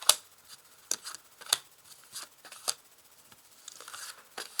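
Tarot cards being shuffled and laid out on a table, a series of soft, quick papery flicks and snaps spaced irregularly, close and quiet with no talk.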